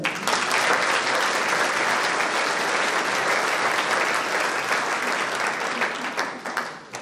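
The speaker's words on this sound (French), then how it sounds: "Je crois qu'on peut l'applaudir" An audience at a volunteer and sports awards ceremony in Soustons applauds in a dense, sustained burst of many hands clapping that fades toward the end.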